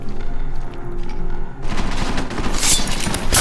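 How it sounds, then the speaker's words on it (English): Silenced pistol fire in the video game Deus Ex: Mankind Divided comes as a loud, dense burst of sharp shots with thuds and game effects, intensifying over a constant loud background. "We just use the silenced pistol, which can be very deadly and very quiet."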